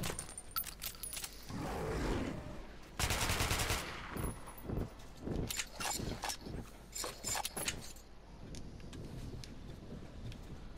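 Gunfire from the shooter game Metro 2033 Redux on Spartan mode in the Dead City level: a dense automatic burst near the middle, then scattered sharp shots and clattering impacts fading toward the end.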